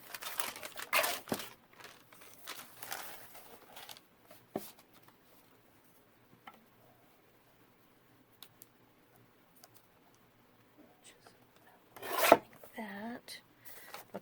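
Scissors cut paper for a junk journal page in short rasping bursts, close and fairly quiet, with long near-silent gaps and a louder crisp burst near the end, followed by a brief voice.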